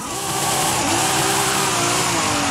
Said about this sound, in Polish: I możemy sobie driftować.